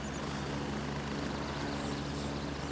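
A helicopter in the military shooter game Gray Zone Warfare makes a steady rotor and engine drone. The sound is loud and close, holds constant, and no one speaks over it.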